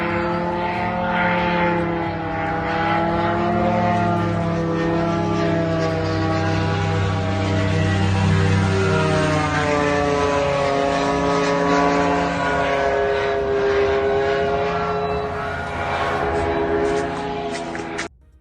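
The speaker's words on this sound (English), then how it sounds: "MiG-31 take off from here." A MiG-31 military jet aircraft takes off, producing a loud, sustained engine roar with shifting whining tones that persists throughout and then cuts off abruptly.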